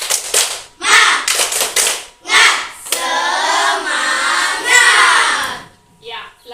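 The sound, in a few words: class doing rhythmic spirit clapping (tepuk semangat)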